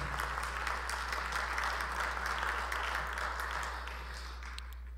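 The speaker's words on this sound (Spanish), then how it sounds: "También lo recibimos con un fuerte voto de aplauso" Attendees at an international scientific seminar on quinoa welcome a university rector with applause, a steady patter of clapping heard a little distant over a constant low electrical hum, fading slightly at the end.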